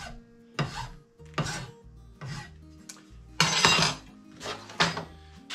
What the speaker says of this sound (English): we'll just file this top off here